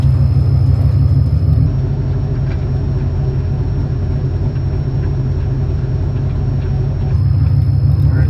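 A Jeep on a hard off-road trail in Moab rumbles with a loud, steady, low engine and drivetrain drone heard close up from inside, with no break in the sound.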